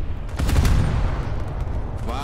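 Secondary naval cannons on the American cruiser Alaska fire in War Thunder, a loud rapid volley of booming shots followed by rumbling background noise, with a voice briefly heard at the end.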